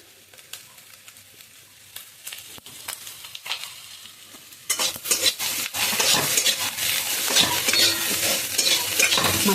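A spiced fish roe mixture is sautéed in a pan, starting with quiet stirring clinks and scrapes, then breaking into loud, steady sizzling with continued stirring.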